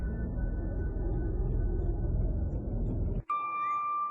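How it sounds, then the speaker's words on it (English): A bell rings once near the end after a steady low rumble cuts out, its clear tone hanging and ringing on in a long echo. "The bell echoes above."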